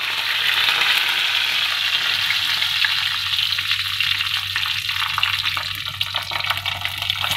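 Mustard seeds and curry leaves sizzle in hot oil for a potato peas curry, a steady, close, crackling hiss that runs unbroken the whole time with no talking.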